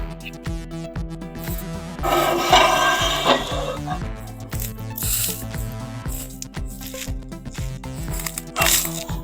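Screws on the tables of a Felder AD731 planer-thicknesser are loosened and retightened, giving repeated ratcheting clicks and rubbing metal scrapes at close range over a steady tonal background.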